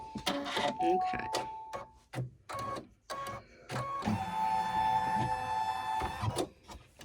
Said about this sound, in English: I'm going to put the foot down and stitch down that little piece of ribbon to tack it into place